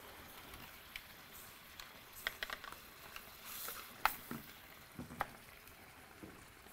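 Liquid nitrogen boils off around RAM being delidded, giving a faint, irregular sizzling patter with scattered soft pops and crackles, close by and quiet.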